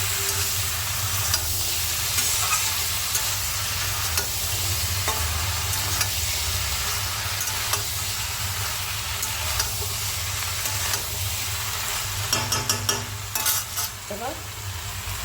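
Poppy seed paste fries in a pan for a Bengali meal with a steady, dense sizzle under continuous stirring and scraping, then a few sharp clatters of utensils toward the end.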